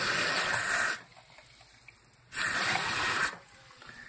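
Tap water runs into a pan of turkey wings being prepared for smothering, in two loud gushing bursts of about a second each with a quiet gap between, close up in a kitchen.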